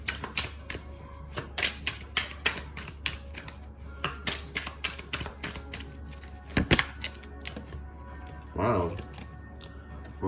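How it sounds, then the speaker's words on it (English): A deck of tarot cards is shuffled in quick bursts of sharp, clicking riffles, close and crisp, with a person talking between them. "3 more shuffles."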